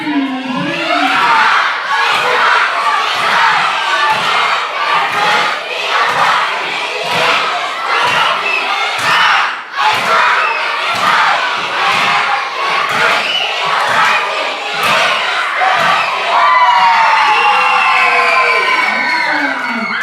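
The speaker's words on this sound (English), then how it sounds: "We'll close with our team cheer" Children shouting a team cheer together at a church gathering, a loud sustained burst of many young voices chanting and yelling in unison, staying dense and energetic throughout with excited shrieks near the end.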